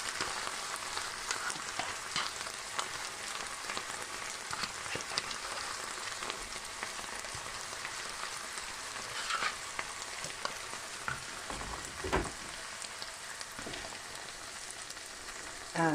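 Pork fries in a pan with a steady crackling sizzle and scattered spitting pops that carry on throughout, moderately loud and close, with no voices.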